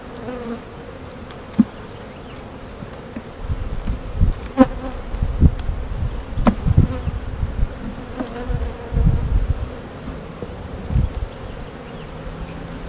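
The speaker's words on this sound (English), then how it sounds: "There's a brand new bee right there." Honey bees buzz steadily in an open beehive, a close, fluctuating hum with occasional clicks and handling bumps as frames are worked.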